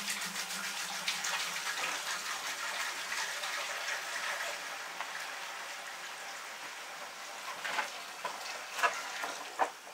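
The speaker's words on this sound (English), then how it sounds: "So then I'm going to take this and I'm going to pour it into the top here." Water poured into the top chamber of a Berkey gravity water filter at a homestead, a steady splashing pour running throughout with a few sharper splashes near the end, close by.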